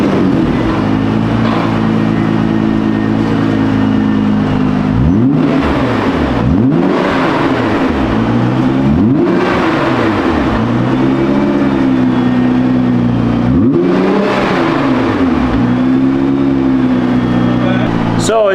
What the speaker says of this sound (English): So this car sounds very, very quiet right now,